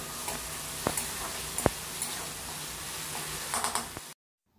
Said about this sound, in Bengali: এবার টমেটোটাকে মোটামুটি মিনিট খানেক একটু ভেজে নেব।